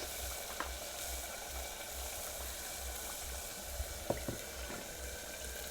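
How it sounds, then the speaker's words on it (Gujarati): Peas and potatoes being added to cooked masala in a pan, a steady soft sizzle with a few faint clinks and stirring sounds. "હવે આપણે વટોણા અને બટેટા નાખી દઈએ."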